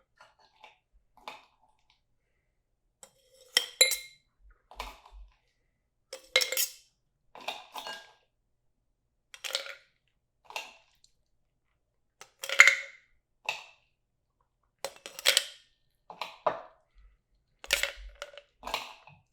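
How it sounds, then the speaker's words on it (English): Ice knocks and clinks around inside a cocktail mixing cup in a series of sharp, bright rattling bursts separated by brief silences, close and clear, with no talk over it. "This one calls for a lot of ice because you're shaking up the drinks that way it's cold."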